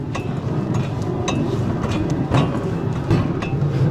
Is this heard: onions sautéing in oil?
no